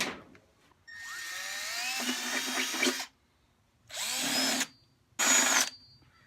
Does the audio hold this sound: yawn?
no